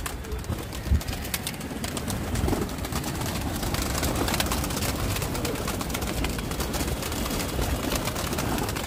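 Pet pigeons coo softly as they come out of their loft, among steady outdoor noise, with low rumbling throughout and no talking.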